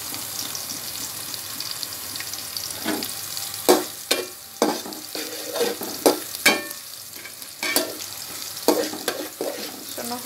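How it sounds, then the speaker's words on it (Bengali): Chopped onion sizzles steadily in a pan, broken by repeated sharp clatters and scrapes of stirring spread over the clip, close and fairly loud, with no voices. "পেঁয়াজ কুচি দিয়ে দেবো, এটা ভাজবো"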